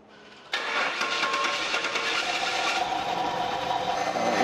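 A Pontiac Firebird engine catches abruptly and settles into a loud, steady idle with a broad mechanical roar that carries on alone to the end, with no audible shaking or misfire.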